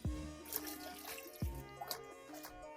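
Water drops fall into a stepwell (baori) in a hill village: three distinct, fairly close plinks about 1.4 seconds apart, each with a short ringing tail, over a quiet background.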